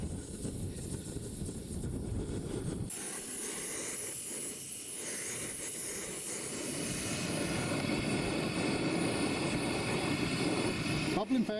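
A camping gas stove burns under a cook pot on a Dartmoor hike, giving a steady close hiss and roar that strengthens partway through and stays constant, with some voices nearby.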